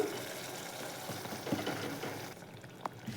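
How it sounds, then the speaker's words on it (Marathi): Water is poured into a cooking pot holding whole masoor lentils sautéed in an oil-and-spice mixture, a quiet steady splashing rush for about two seconds that then stops, leaving faint kitchen background. "आता टाकूयात थोडेशी पाणी"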